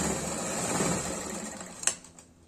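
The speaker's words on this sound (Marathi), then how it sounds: "1/2 इंच इतक्या अंतरावरती हुकपट्टीलाही शिलाई करून घ्यायची आहे." A sewing machine stitching a hook strip onto a blouse, a steady close whirring hum that slows and stops near the end with a small mechanical clack.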